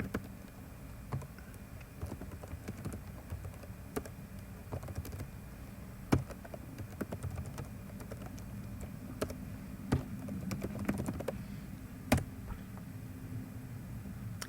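Typing a web address on a computer keyboard: a steady run of close, quick key clicks with a few louder taps, continuing for several seconds with no talking.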